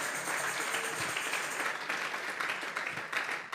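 A church congregation applauding, sustained dense clapping from many people that carries on steadily throughout.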